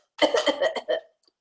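A voice mimics clearing the throat: a quick run of harsh, rasping bursts, close and loud, ending after about a second.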